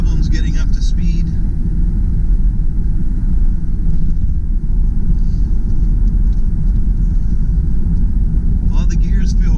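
A 2005 Saturn Vue with a 5-speed manual accelerates, its engine a loud, steady low rumble with road noise throughout and no clear gear change.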